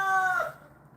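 A rooster named Mark lets out a short, clear crowing cry near the microphone, a single call lasting under a second that drops off quickly, with no talking.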